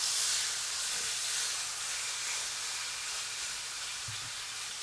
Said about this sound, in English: Then you're going to want to take your roast here, layer in the pan.